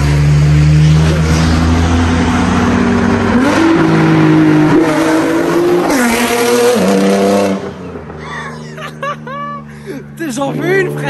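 A Nissan GT-R R35 Stage 3 tuned to over 800 hp roars and revs hard as it approaches and passes close by, then fades while people talk excitedly.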